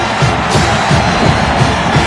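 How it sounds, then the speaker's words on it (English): A rowdy college football stadium crowd roars steadily throughout the Mountaineers' game against TCU, forming a dense, loud wash of cheering with some faint whoops rising out of it. "This crowd is rowdy"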